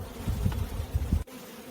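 Honey bees buzzing close around a packed honey super of a colony, a low droning hum with a few brief louder swells, then dropping away abruptly near the end.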